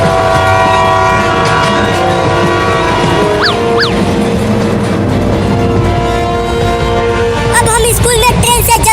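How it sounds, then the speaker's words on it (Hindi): A cartoon train slowing down, its rumbling wagons and rail clatter filling the scene, with rising whistle-like tones midway and busier high warbling sounds near the end. "देख ट्रेन धीरा हो रहा है"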